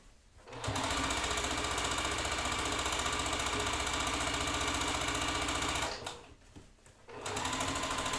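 Sewing machine stitching a quilt top in a steady, loud, continuous run of rapid mechanical chatter that drops away for about a second near the end before starting up again, no voices.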